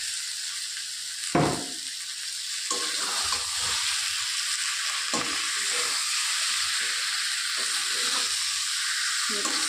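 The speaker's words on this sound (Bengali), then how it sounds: "এবার আমি ডিম ও আলুটা দিয়ে দেবো একসাথে।" Duck eggs and potatoes tipped into frying spice paste: a sharp clatter as they go in, then a continuous hot sizzle with occasional stirring scrapes, heard close and without speech.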